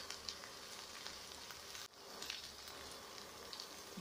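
Bitter gourd and potato pieces with onions frying in a pan over medium flame, a steady soft sizzle with faint crackles and a brief dip midway, no voices.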